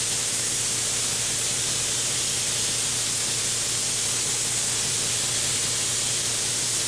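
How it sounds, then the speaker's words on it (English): A spray gun spraying paint onto a metal part during metal finishing, producing a continuous broad hiss at even strength with no breaks, close and alone. "you need to keep that spray gun the same distance away from the part"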